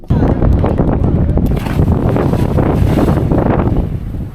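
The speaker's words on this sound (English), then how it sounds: "It is still very windy" Strong wind buffets the microphone in a steady, loud roar, with water and waves faintly audible beneath the rushing gusts.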